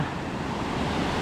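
The Soča river in Slovenia flows near a bridge along a riverside trail, producing a steady, even rush of water that fills the short stretch at a constant level with no voices.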